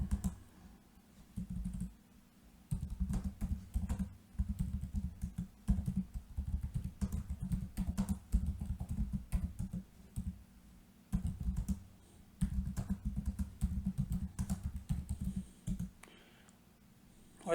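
Text is typed into a file on a computer keyboard, with bursts of quick, close key clicks separated by short pauses, no talking.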